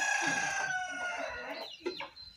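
Broody hens cluck and croon close by, a drawn-out squawking call followed by a few short, choppy clucks.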